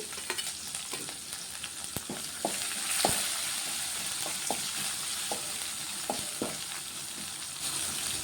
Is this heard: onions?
yes